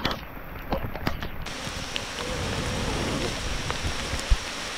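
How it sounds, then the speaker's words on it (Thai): Heavy rain falls over a forest stream where a large ground bee nest is being harvested, a steady hissing wash with a faint insect buzz early on and one sharp knock near the end. "ทำกลางฝนตก"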